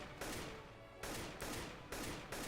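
Gunfire in the shooter CSGO, aimed at bots: rapid bursts of shots in three or four even strings separated by short gaps, moderately loud with no voices.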